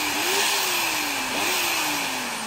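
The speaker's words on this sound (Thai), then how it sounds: "ผมต่อโหลดเป็นสว่านตัวนี้อยู่นะครับสว่านตัวนี้ประมาณ500วัตต" A roughly 500-watt electric drill runs on battery power from a hybrid inverter, giving a loud, continuous motor whine whose pitch wavers slightly, with no talking.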